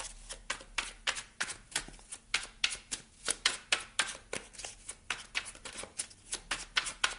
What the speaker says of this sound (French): Je vais vous prendre une petite carte avec la numérologie.